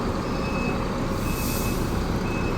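A bus at Mangaluru Central Bus Stand at night idles loudly, with a steady engine rumble under repeated high reversing beeps, and nobody talks.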